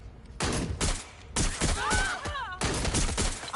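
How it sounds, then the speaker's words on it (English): Sustained automatic gunfire from the video game Watch Dogs Legion on PS5, loud dense volleys arriving in three long bursts, with brief voices mixed in between. "Keep looking! They're shooting!"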